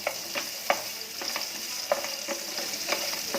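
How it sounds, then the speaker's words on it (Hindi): Chopped onion sizzles steadily in a pan for a South Indian onion tomato chutney, with garlic already frying, while a spoon scrapes and stirs in irregular taps and clinks over the close, continuous hiss. "अब इसमें एक कटा हुआ प्याज डालेंगे, इसको भी भूनेंगे तकरीबन 1 मिनट"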